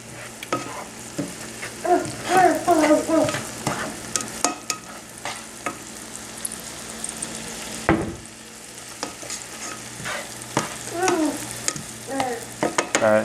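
Carrot, potato and corn for homemade baby food sizzle in a pan while a utensil stirs and scrapes, producing soft frying hiss broken by irregular clinks and scrapes, with a voice babbling now and then.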